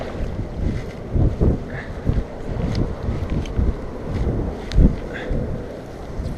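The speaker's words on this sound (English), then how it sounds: "There's plenty of wind here too." Gusty wind buffets the microphone beside the Weber River during fly fishing, a low rumbling roar with irregular swells and brief thumps, fairly loud and continuous.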